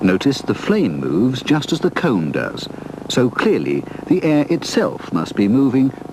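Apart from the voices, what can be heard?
None of the usual background noises is heard.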